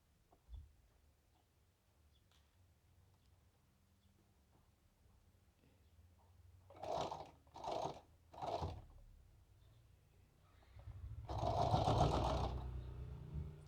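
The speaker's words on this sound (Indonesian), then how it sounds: "Nah sekarang ini kita jahit dengan satu sepatu sampai lingkaran seperti tadi yang bagian B." A sewing machine stitches a circle on fabric for a handmade hat, running in three short bursts followed by a longer, louder continuous run, close and with no talking.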